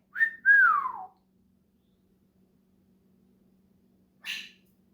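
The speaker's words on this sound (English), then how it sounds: "He's a Pyonis parrot, so he's making parrot sounds." A Pionus parrot gives a shrill rising whistle that slides downward, then after a long pause a short harsh squawk, both clear against a quiet background.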